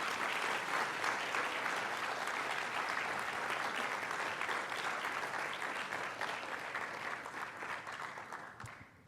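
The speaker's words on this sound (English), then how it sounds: "How about one more round of applause for John?" A dinner audience at a diversity in STEM event gives a speaker named John a full, sustained round of applause that continues almost to the end before tapering off.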